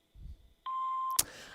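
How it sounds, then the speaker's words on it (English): An answering machine gives a single steady electronic beep before the voicemail message, clear and close, holding for about half a second and ending with a click after a short stretch of quiet line noise. "Please leave your name and phone number after the beep."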